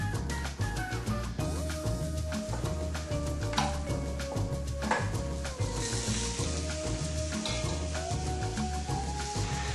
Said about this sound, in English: as your ground beef and your ground pork is cooking